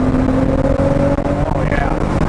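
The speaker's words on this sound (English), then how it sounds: "Drop it down to second. All right, let's get on the throttle again." An early hot-rod Porsche 911 engine pulls hard on the throttle in second gear, a steady, loud droning growl that holds strong throughout, with a voice partly over it.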